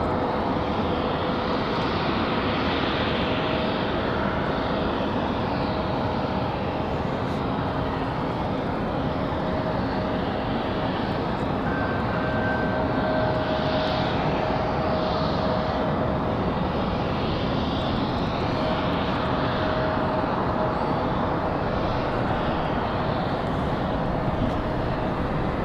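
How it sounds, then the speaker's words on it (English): An American Airlines flight from Charlotte arrives at Raleigh-Durham International Airport, its jet engines a steady, sustained roar with a faint whine, holding loud and continuous for the whole span with no talk. "Next arrival, American Airlines 1904, coming in from Charlotte."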